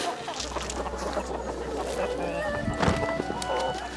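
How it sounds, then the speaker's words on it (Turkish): A free-range flock of chickens clucks and calls nearby over a steady low hum, with scattered bird sounds throughout. "Dikkat ederseniz halen daha sol tarafımıza doğru bazı tavuklar bu tarafa gelmiyor."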